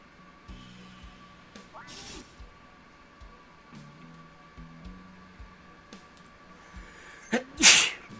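A single sharp, close sneeze bursts out near the end from a character in the role-playing game Cosmic Star Heroine. Before it, a low, quiet ambient music bed hums with a few soft effects.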